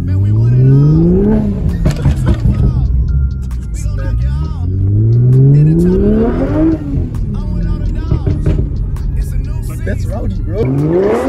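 A 2JZ-swapped Mitsubishi Colt with a full straight-pipe exhaust revs hard in repeated rising pulls, each climbing then dropping, loud and close from inside the car, with people talking over it.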